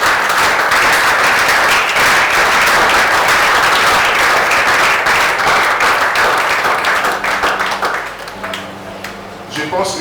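A church congregation applauding during a service, sustained loud clapping from many hands that fades after about eight seconds into quieter scattered claps while a voice carries on over a low musical tone.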